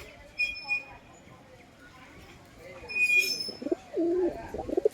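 Soft pigeon coos murmur close by, a few low throaty calls in the last seconds, with faint voices and chirps in the background; high-flying pigeons and squabs.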